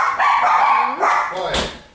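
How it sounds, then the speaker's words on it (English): Excited dogs barking nearby in cold weather, a few sharp yelps and woofs in a short burst, loud and close with no speech over them. "my dogs that flip out about everything"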